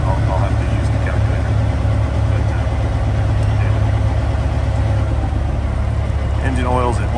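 A 2001 Peterbilt 379 truck engine runs at a steady, loud low rumble throughout, close by and continuous with no change in pace.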